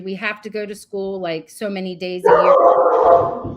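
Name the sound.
dog barking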